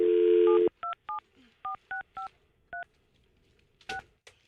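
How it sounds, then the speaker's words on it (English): A telephone number is dialed on a keypad: a long steady tone opens, then about ten short, evenly spaced dual-tone beeps follow in quick succession, clear and close with no talk. "let me get Don, the IT guy, on the phone"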